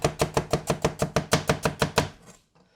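A Kyoku kitchen knife chops quickly on a board, about a dozen crisp, evenly spaced strikes in a steady rhythm, close and loud, before the cutting stops and falls quiet.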